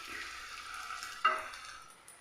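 Puris made from leftover rice frying in hot oil, a soft steady bubbling sizzle with one sharp crackle partway through, brief and close.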